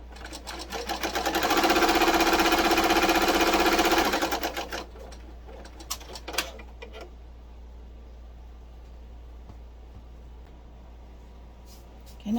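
Embroidery sewing machine stitching nostrils onto a pillow, a loud steady rapid needle clatter for about four seconds, then stopping to quieter scattered ticks and handling noises.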